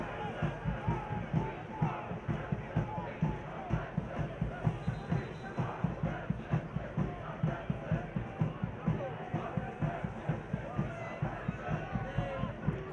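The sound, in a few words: sold-out crowd of soccer fans at Breeze Stevens Field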